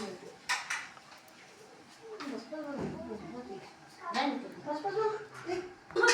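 Plates and cutlery clink and clatter in scattered bursts as a home meal of beef curry is served at a sister's house, with people talking over the dishes.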